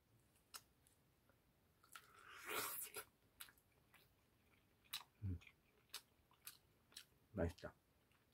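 Someone eating home-harvested steamed corn on the cob at home, with intermittent close crunchy bites and soft chewing spread through the clip, including a louder burst near the middle and sharp crunches toward the end.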